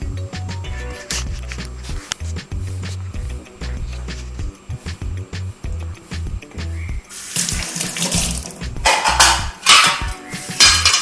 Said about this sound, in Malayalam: നമുക്ക് ഒന്ന് കഴുകി നോക്കാം